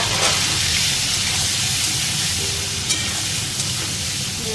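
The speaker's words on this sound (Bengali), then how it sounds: "এটাকে খুব সুন্দর করে ভাজবো" Potatoes frying in hot oil with salt and turmeric, a dense, steady sizzle and crackle that stays loud and even throughout, with a couple of faint clicks near the end.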